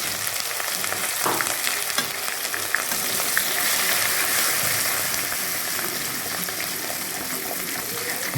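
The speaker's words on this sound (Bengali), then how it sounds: "ভালো করে আদাটা ভেজে" Ginger paste sizzles and fries steadily in hot oil with panch phoron five-spice seeds for a mixed vegetable labra, a continuous close crackle with occasional stirring and no speech.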